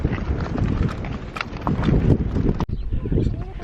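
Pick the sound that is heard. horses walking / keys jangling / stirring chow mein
horses walking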